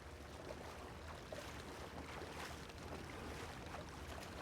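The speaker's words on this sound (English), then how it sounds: "Why am I the only one paddling?" A rowboat being paddled across water in the Red Dead Redemption 2 video game, with a faint, steady wash of lapping water and a breezy hiss, and no voices.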